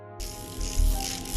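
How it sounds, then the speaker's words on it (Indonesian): A quick, rattling ratchet-like whir of a revolver cylinder spinning, close and clicking rapidly for about a second. "mengisi peluru dan memutar silinder pistol mereka."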